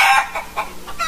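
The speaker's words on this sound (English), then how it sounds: "I got some chickens here in my farm" Farm chickens clucking in a few short, separate bursts, one louder cackle at the start followed by softer clucks, close by and with no talk.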